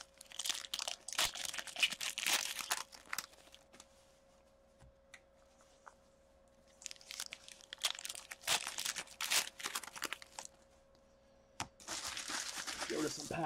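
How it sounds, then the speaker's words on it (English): Packs of trading cards are torn open in bursts of close, loud wrapper crinkling and crackling, broken by short quiet pauses across the stretch. "This is a part where it takes a couple seconds to get all these cards open."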